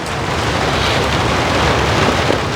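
Rain drums steadily on a transparent dome house, a dense continuous hiss that stays loud and even with no voices over it.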